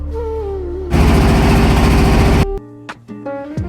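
A small trawler boat's engine on a flooded river beside the broken Islampur bridge in Gazipur, roaring loudly with a steady throbbing rumble for about a second and a half before cutting off abruptly.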